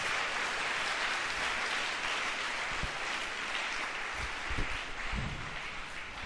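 A church congregation applauding to acclaim Jesus Christ, a dense sustained roar of clapping from a large crowd, steady and full throughout with a few heavier thumps near the end.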